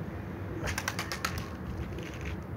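A pigeon takes off with a short burst of rapid wing flaps, several sharp claps close by, over a steady outdoor background hiss.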